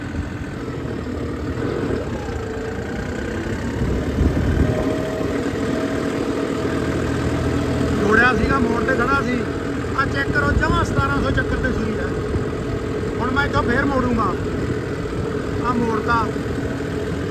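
A Swaraj 5405 CRDi diesel tractor pulling a 17-tine cultivator drones steadily at high revs around 1700 rpm, loud and close, with someone talking over it for part of the time.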